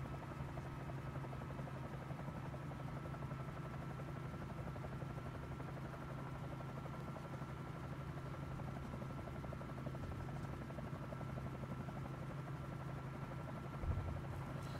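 Bell 47J helicopter in Microsoft Flight Simulator, a steady loud rotor drone and engine buzz that holds unbroken from start to finish, with a small thump near the end and no voices.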